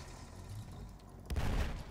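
Cannon firing in Battlefield V, a heavy booming blast erupting suddenly near the end after quieter rumbling background battle noise.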